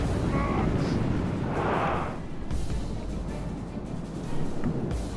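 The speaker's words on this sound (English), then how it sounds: "their mortars have found their range. They've managed to start firing at me" Mortars fire in the Medieval II Total War game, a continuous low rumbling battle din with a muffled burst partway through, loud and steady throughout.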